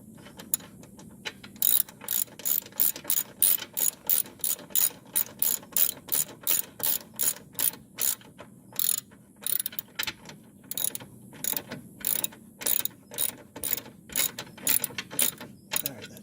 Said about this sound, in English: we're just going to tighten these down as much as we can, and then we'll torque them down to the 74 pounds